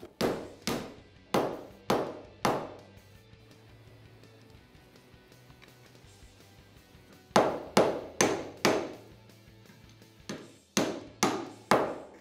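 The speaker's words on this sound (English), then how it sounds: "then we'll drive the bearings in" Axle bearings on a Yamaha Raptor 700 are hammered into the heated carrier bore: sharp, ringing metallic strikes in evenly spaced bursts of four or five, with quiet pauses between groups.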